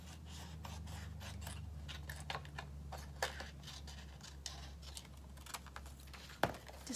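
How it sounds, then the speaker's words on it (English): Scissors snipping a thin strip off the white edge of a sheet of paper, a close, quiet run of repeated crisp cuts and rustles. "What I did with mine was I cut off a thin strip, actually two of them"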